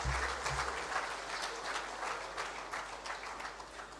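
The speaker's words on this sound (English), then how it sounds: "Please, let's keep the applause going for him." A seminar audience applauds steadily for a bank founder and chairman, a dense, even wash of clapping from a large crowd that holds at constant loudness for the whole stretch.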